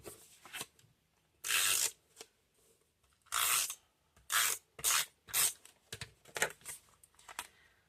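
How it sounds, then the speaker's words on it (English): Tape runner dispensing adhesive onto pattern paper for a handmade card: several short, crisp rasping strokes close up, some longer and some quick in succession, with quiet pauses between them. "I'm just going to use tape runner today."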